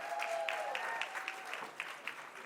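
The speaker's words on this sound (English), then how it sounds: "another round of applause" Applause at a Boston city reception honoring women, a steady wash of many hands clapping at moderate distance, fairly soft and even throughout with no voices over it.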